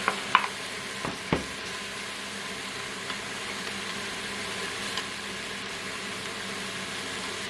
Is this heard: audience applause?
no